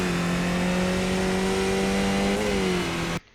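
A Skip Barber race car in iRacing at Zandvoort revs hard under acceleration, its steady engine note briefly dropping at an upshift before climbing again. The engine is loud and close with no talk, then cuts off abruptly at the end.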